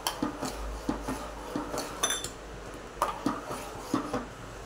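A spoon stirs bread custard pudding in a pan on the stove, giving soft repeated scrapes and light metallic clinks in a steady rhythm, close and fairly quiet with no talking.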